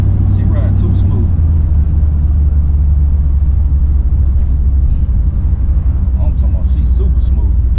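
A supercharged Cutlass cruising smoothly along, its low steady engine and road rumble droning loud and close throughout, with faint voice-like bursts near the start and end.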